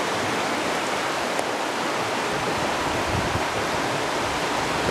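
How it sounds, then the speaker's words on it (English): Small river rapids and a low dam on the Michigamme River in autumn produce a constant broadband rush of moving water, steady and fairly loud, with no voices. "Got little rapids going along over there and stuff. Kind of a little dam over here."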